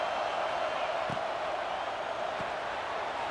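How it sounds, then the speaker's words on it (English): Steady roar of a stadium crowd in the College Football 26 video game, a dense continuous wash with faint swells, no clear cheers, running evenly throughout. "Listen to the crowd energy here in the early going."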